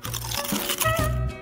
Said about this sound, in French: C'est tellement croustillant et juteux.